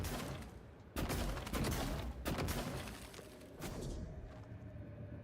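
Glue gun firing in the sci-fi video game Psycho Shock, loud bursts of sharp, crackling shots in several clustered volleys with booming thuds, fading to a quieter hum near the end.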